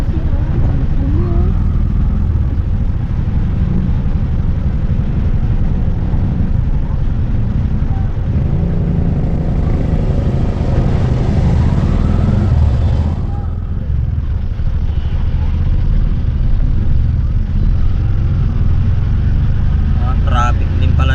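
Street traffic in Manila near Luneta on a flooded road, a constant low rumble of engines and passing vehicles, with a person talking over it throughout.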